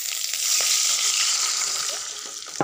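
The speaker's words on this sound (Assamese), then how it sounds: "মেগীটো এনেকৈ ভাজি" Maggi noodles and onion sizzle in refined oil in a pan, a steady, close, bright frying hiss that holds loud and even throughout with a few faint clinks and no talking.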